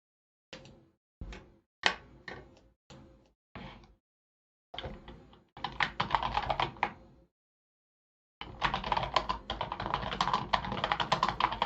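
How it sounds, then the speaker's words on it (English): Rapid bursts of typing on a computer keyboard during an online poker session, close and fairly loud, coming in short clusters of clicks separated by pauses, then longer dense runs of keystrokes with no talking. "In case that makes it to the stream, the typing, but I think it does."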